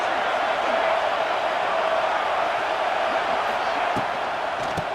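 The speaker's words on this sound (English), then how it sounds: "This crowd bringing the energy and noise early." A stadium crowd in EA Sports College Football 26 keeps up a steady, loud roar of cheering and noise throughout, with a few faint thuds near the end.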